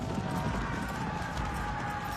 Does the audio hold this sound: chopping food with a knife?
no